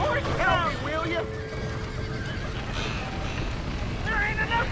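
Horses whinny loudly in a noisy Red Dead Redemption barn fire scene, with several excited neighs at the start and again near the end, over shouting voices and background clatter.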